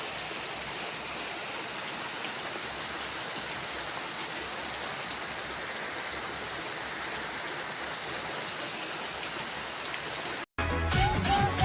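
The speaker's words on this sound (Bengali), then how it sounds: "প্রচুর জোরে বৃষ্টি হচ্ছে" Heavy rain falls hard and steadily in a rural farming area, a dense, loud wash that runs unbroken until a brief cut near the end.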